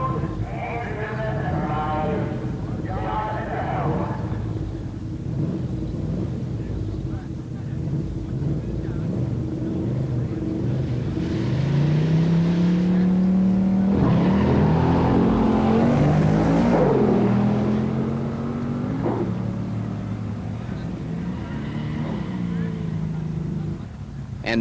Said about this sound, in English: In the far lane, Bill Wynn in a 68 GTX 440 automatic. And in the near lane, here is John Mino's 68 Firebird.